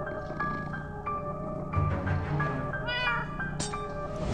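A cat meows repeatedly in the video game Minecraft Story Mode, a series of drawn-out, whiny in-game meows with a faint game score underneath, fairly close and clear, with no talking.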